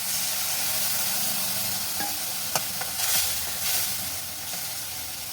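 Mustard seeds hit hot oil in a pan with tomato and green chilli, giving a steady sizzling hiss throughout with a few sharp pops and clicks of stirring.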